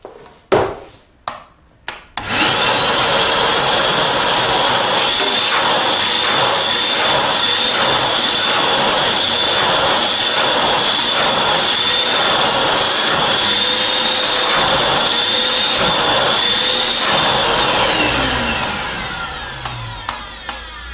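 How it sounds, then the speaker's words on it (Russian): A vacuum cleaner starts up after a few clicks and runs with a loud, steady roar, then winds down near the end. "вот этот пылесос тянет намного сильнее, чем вот этот"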